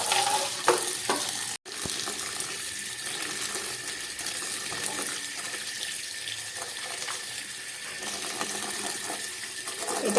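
Water running steadily from a kitchen tap while a fish is washed at home, a continuous close splashing with small clatters and a brief break early on, with no talking.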